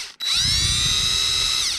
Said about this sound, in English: we're going to drill some pilot holes in this first